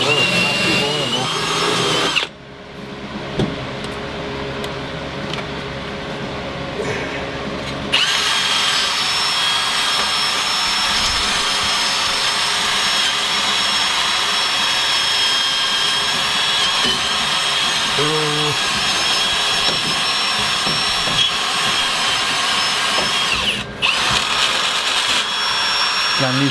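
A wire wheel on a power tool grinds surface rust off a 1964 Chevy Malibu, a loud steady whirring scrape that runs nearly throughout with a few short dips, while a fan hums nearby and voices talk intermittently.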